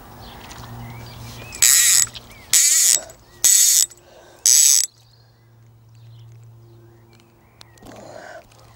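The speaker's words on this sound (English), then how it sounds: "Wish this ratchet was quieter, I hate it." A fishing reel's ratchet clicks out in four loud, separate bursts while a rod and reel is worked on a canal bank, with quiet low hum and faint outdoor sounds between and after.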